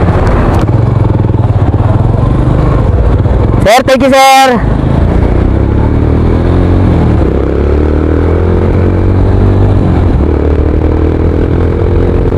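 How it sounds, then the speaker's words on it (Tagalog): A secondhand Suzuki motorcycle engine runs steadily nearby, a continuous rumbling idle under a man's brief spoken thanks, with a sharp swept electronic chirp cutting in partway through. "Ay, bukas yung motor ko."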